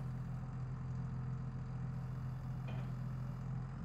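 A tractor engine in the video game Farming Simulator 22 running at a steady low drone, a constant close rumble with no talk over it.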